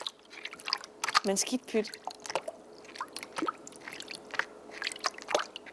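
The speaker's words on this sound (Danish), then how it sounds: "Det er så dejligt at have gummistøvler på. For så kan man plaske alt det, man vil." Rubber boots splash and squelch through puddles in uneven wet bursts of sloshing steps, close by and mixed with people talking.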